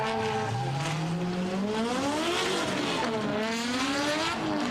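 An old Drift Academy car with its engine held high in the revs at Meremere Drift, rising and sliding in pitch through a continuous loud run with tire squeal, no talk.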